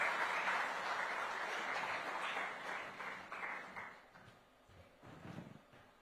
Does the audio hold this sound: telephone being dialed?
no